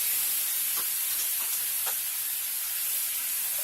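Almond milk poured into hot melting sugar for a vegan caramel sauce gives a steady, loud hissing sizzle of steam and splatter that fills the whole stretch with no talk.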